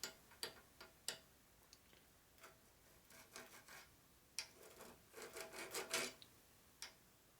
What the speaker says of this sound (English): So this is a file. You go back and forth, it files the threads.